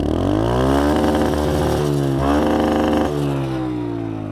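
A motorcycle's engine roars close and constant during a ride, climbing in pitch through a couple of acceleration pulls, dipping briefly at a shift, then easing off toward the end.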